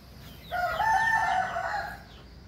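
A rooster crows once in a chicken coop fenced with lemongrass in Riau, a loud, drawn-out call lasting about a second and a half, close by.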